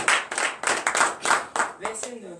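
A church congregation at a morning prayer service claps in a loose rhythmic pattern, about eight distinct bursts of hand claps, before a voice begins speaking at the end.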